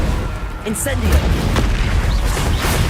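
Incendio fire spell blast in the Hogwarts Legacy video game, a dense rumbling boom with bursts of crackle that stays loud throughout, under game effects and a voice.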